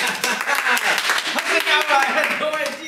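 Cast members applaud during a staged reading of the play Yakiniku Dragon, with steady close clapping that runs continuously beneath overlapping voices.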